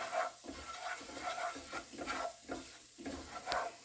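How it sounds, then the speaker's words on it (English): A spoon stirs roasted butternut squash soup with cinnamon in a pot, several slow rhythmic scraping swirls with a faint bubbling underneath, close but quiet, and a small clink near the end. "I'm actually going to give it a little bit of a stir."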